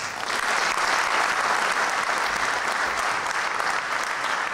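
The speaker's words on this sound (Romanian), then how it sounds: "Vă rog să-i aplaudăm pe toții." Dense, sustained audience applause fills a room at a Democratic Liberal Party meeting in Rădăuți, many hands clapping evenly and loudly with no break and no speech over it.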